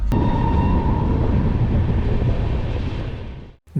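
A train running through a forest in the Dooars rumbles steadily and loudly with a faint whining tone above it, then the roar drops away near the end.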